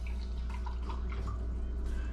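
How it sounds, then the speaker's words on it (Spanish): Reverse-osmosis purified water runs from the separate purifier faucet of a home water treatment system, a continuous close trickling and splashing with faint dripping over a low steady hum. "nos arroja ya agua purificada y tratada con ósmosis inversa"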